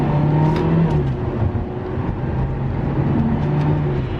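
A Volkswagen Jetta with a 1.4 turbo engine pulls hard under acceleration, a steady close engine drone and whir that rises in pitch through the run, mixed with road and wind noise from inside the car.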